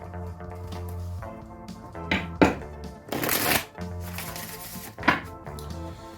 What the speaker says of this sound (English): All right, let me pull an oracle card.